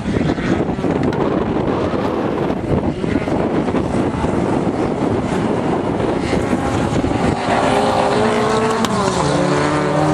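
Autocross race cars competing at Plouider, loud engines roaring continuously with heavy wind buffeting, revs climbing and shifting toward the end.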